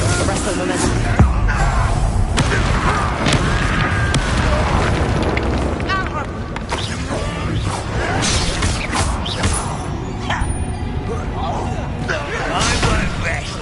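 Confringo spells explode in the video game Hogwarts Legacy amid a loud, dense mix of booms, whooshes and crashes, with continuous spell-casting voices layered over the combat.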